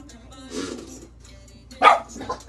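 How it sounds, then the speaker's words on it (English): A dog, a pet that barks at everybody, gives a short sharp bark near the end, after some indistinct voices and a louder burst, close by indoors. "Stop barking at people."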